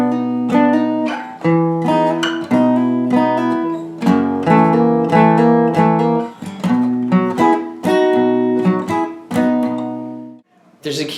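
Slow acoustic guitar rendition of the second verse of a song, with a steady run of ringing strummed chords and picked notes, close and clean, and no voice over it.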